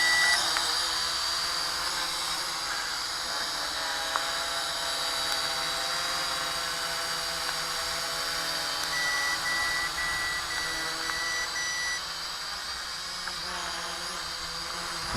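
An SG106 optical-flow RC drone with a 1080P wide-angle camera hovers in place, its propellers giving off a steady, high buzzing whine that holds constant throughout.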